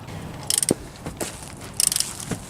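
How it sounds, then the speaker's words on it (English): Lug nuts on a BMW E46 325ci wheel are tightened with a torque wrench, giving a few sharp metallic clicks and ratcheting bursts in quick clusters, close up in a quiet garage. "Torquing the lug nuts."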